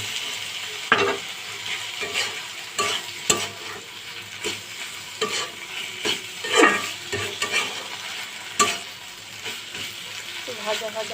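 Prawns sizzle and fry in a spice mix for a coconut prawn curry, with steady crackling and repeated scraping stirs from a spatula, close and fairly loud, and no talking.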